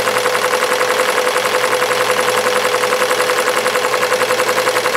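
A commercial embroidery machine runs steadily at 650 RPM, stitching a visor with a sharp needle, giving a loud, fast, even mechanical chatter with no pauses and no talking.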